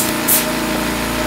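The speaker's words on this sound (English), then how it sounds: "now that the compressor is on, you just take the air line and then hook it up" An air compressor runs steadily, its motor hum and rapid pulsing drone loud and close, with a brief burst of hissing air near the start.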